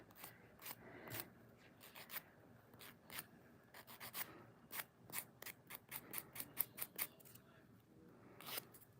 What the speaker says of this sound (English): So I'm just filing and kind of buffing it to make it nice and smooth.